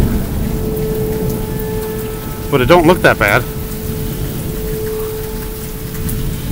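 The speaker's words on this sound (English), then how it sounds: "The wind has calmed down, the rain has calmed down, but there's more lightning." Rain falls steadily during a severe thunderstorm warning, a constant hiss throughout with someone speaking briefly in the middle.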